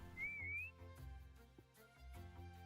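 A short, clear whistle in a video game, a single rising-and-falling tone over quiet background music.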